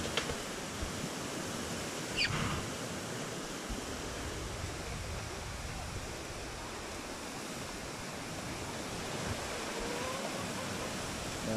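Strong typhoon wind under a Signal No. 3 storm in Pangasinan, Philippines, roars as a continuous broadband rush with gusty swells. A faint sharper noise breaks in briefly near the start.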